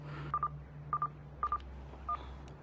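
Telephone keypad tones ring out as a number is dialed, clear close beeps in short pairs with brief pauses between them, over a low steady hum.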